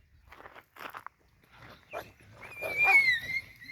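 Dogs are driven off by a person making sharp shooing calls, with scattered short bursts of scuffling and animal noise, then a louder, higher cry near the end.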